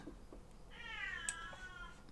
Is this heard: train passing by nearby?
no